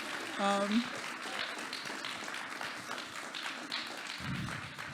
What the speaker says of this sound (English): Please give a round of applause to our artists.